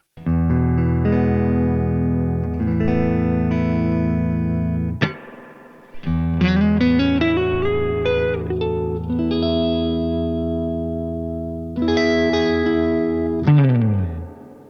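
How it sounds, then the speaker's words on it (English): Electric guitar chords and single notes ring through a Supro tube amp's spring reverb, short and springy, splashing and dripping as the strings stop and are struck again. "it's not a huge reverb, but it is a spring reverb"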